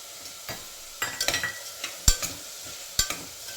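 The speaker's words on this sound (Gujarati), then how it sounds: "સ્વીટકોર્ન અને દૂધીને જે ખમણીને રાખેલી હતી એ એડ કરી દઈશું" Grated sweetcorn, bottle gourd and potato being stirred into vegetable dalia khichdi in a pan; a few close, brief scraping and stirring strokes with light sizzling between them, no talk.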